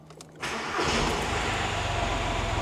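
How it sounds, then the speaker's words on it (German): A quiet moment, then a VW Lupo 3L 1.2 TDI engine cranks and catches, settling into a loud, rough diesel idle with a steady chugging rhythm. "Handbremse anziehen. Haben wir. Motor starten."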